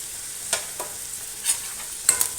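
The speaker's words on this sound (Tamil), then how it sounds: "நல்லா வதக்கிக்கலாம் நல்லா வதங்கின பிறகு தக்காளி போடுறேன்" Garlic, ginger and green chilies being sautéed in a pan for paneer butter masala, with a soft sizzle broken by a few quick, bright scrapes of a stirring spoon over about two seconds.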